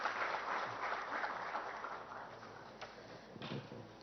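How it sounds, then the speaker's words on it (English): A conference audience applauds as speakers are welcomed on stage, a broad wash of clapping from a large hall that slowly thins, with a couple of louder knocks near the end. "with a huge round of applause, please welcome on stage Rahul and Kailash"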